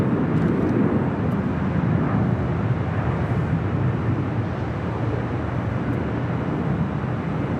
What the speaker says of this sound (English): China Southern Airlines 787-9 Dreamliner coming up from Guangzhou